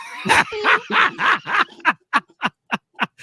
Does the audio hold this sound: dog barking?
yes